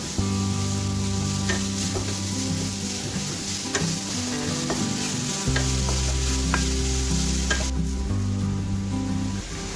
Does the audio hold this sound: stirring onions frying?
yes